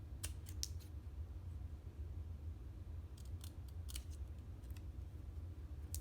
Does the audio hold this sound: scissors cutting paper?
yes